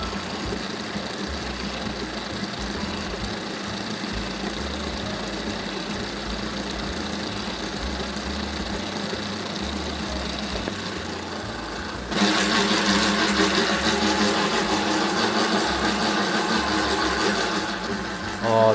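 Stand mixer kneading Christmas stollen dough with rum-soaked fruit, a steady mechanical whirring hum that grows noticeably louder and harsher partway through, continuing without speech.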